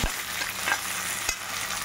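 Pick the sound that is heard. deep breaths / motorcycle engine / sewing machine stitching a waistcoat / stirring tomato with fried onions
stirring tomato with fried onions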